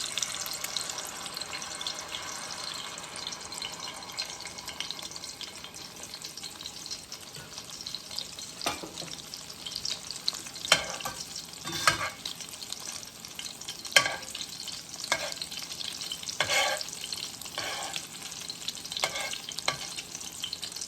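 Shrimp and beef egg foo young frying in hot grease, a steady bright sizzle running throughout with occasional louder pops and crackles in the latter half.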